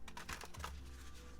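A tarot card deck being shuffled by hand, a quick run of soft, papery riffling clicks that crowd together at the start and then thin out, close and fairly quiet, with no talking.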